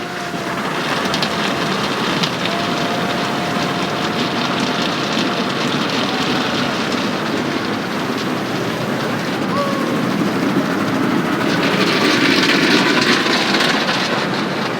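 An automatic car wash runs with a steady broad whooshing of water spray and brushes, continuous and fairly loud from inside the car, growing slightly more intense near the end, with faint talk underneath.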